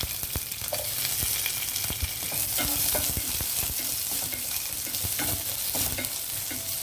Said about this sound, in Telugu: ఈ టైంలో మనం ఉల్లిపాయలు వేసేద్దాం.